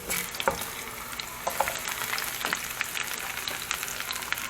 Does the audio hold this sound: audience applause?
no